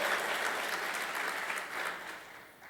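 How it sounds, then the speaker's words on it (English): Audience at the RedState Gathering 2015 applauding, a dense wash of many hands clapping close and loud, tapering off toward the end. "And clap for yourselves, that's good."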